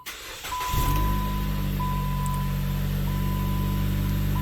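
A 2012 Chrysler 200 engine cranks briefly after near silence, then catches and settles into a steady, loud idle with a constant hum and a faint high whine running alongside.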